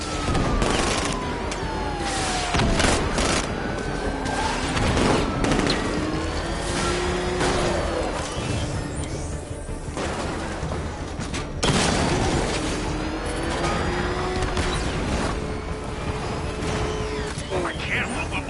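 Gunfire and explosions in a Batman video game: rapid bursts of shots, mechanical clatter and heavy booms spread across a busy battle scene, with shouting voices mixed in throughout.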